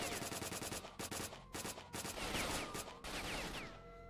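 Rapid bursts of automatic gunfire in S.T.A.L.K.E.R. at the Military Base, loud and dense, broken by short gaps with scattered shots continuing throughout.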